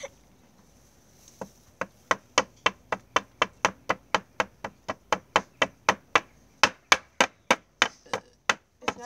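Hammer smashing apart a wooden rabbit hutch, a fast steady run of about thirty sharp knocking blows, close and fairly loud, with no talk over them.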